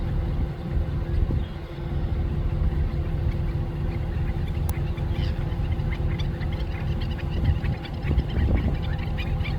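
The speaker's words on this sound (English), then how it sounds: "We got two birds here." Ducks at a wildlife refuge in Texas, a pair squabbling while one tries to mate with the other, amid steady low outdoor rumble like wind or distant traffic, with scattered faint calls rising through the noise.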